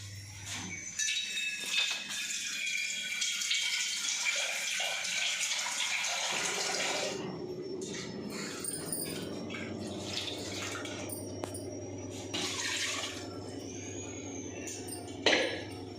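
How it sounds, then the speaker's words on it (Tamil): Water poured into a pot of spinach curry during cooking, a continuous splashing, trickling pour lasting most of the stretch, with a brief clink near the end. "இதில் தண்ணி ஊற்றி மிக்ஸ் பண்ணி கலந்து ஊற்றிக்கலாம்."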